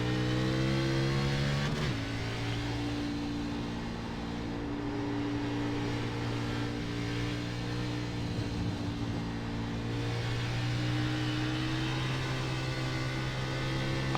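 NASCAR Xfinity race car engine in the iRacing sim at Watkins Glen, held at high revs: a loud, steady harmonic drone with a brief dip and shift early on, then sustained and fairly constant, with no voices.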